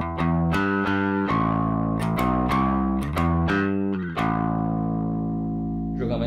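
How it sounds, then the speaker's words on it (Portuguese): Bass guitar through a JHS Clover preamp with a drive pedal engaged, a series of plucked, slightly gritty notes in a steady line, then a held note sustaining to the end, played alone at moderate volume. "Vou ligar o drive."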